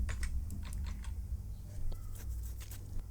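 Code being typed on a computer keyboard in a quiet room, a steady run of light, quick key clicks with a low hum underneath.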